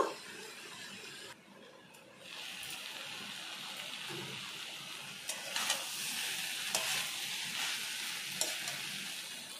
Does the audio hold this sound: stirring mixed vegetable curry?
yes